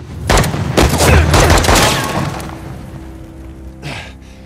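A rapid burst of several loud gunshots with booming low end in the video game Uncharted: The Lost Legacy, fading into a lingering rumble, then one more softer shot near the end.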